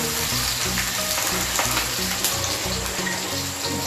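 Chopped onion and green chili fry in a pan for jackfruit kofta, a continuous close sizzle with some busy crackle and no speech.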